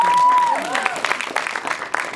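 An audience at a film Q&A applauds and cheers in a brief burst, with clapping and a few shouts, and a voice is audible at the start.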